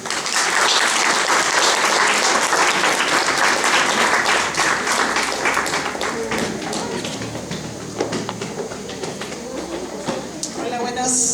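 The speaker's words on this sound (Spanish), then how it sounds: "Demos un fuerte aplauso" A crowd at a women's political forum gives a speaker a strong round of applause, dense clapping that starts loud and gradually thins out, with voices heard underneath toward the end.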